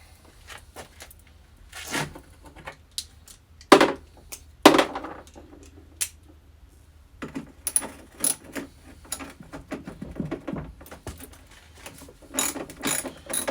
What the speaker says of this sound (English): See if I can take some more fender bolts off.